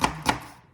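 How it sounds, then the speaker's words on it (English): Two sharp knife chops cut through green pepper on a cutting board, close and crisp, spaced about a quarter second apart and then fading to quiet. "And chop it up."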